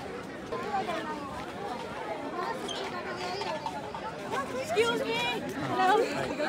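Crowd on a boat in Nainital, dense overlapping chatter and hubbub of many voices close by, rising slightly louder toward the end.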